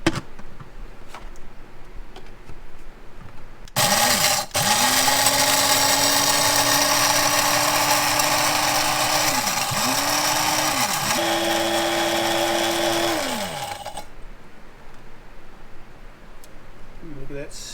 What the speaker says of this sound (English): then we are going to start crushing it up into some onion powder